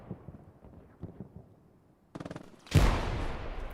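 An MG34 machine gun in a video game, a quick rattling burst of automatic fire after quieter scattered shots, then a big loud blast that rumbles away.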